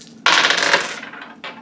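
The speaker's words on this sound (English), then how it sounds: "Let me do a little roll of dice on that one" Dice clatter and rattle across a hard surface in one quick tumbling roll, close and fairly loud, with a brief second clack at the end.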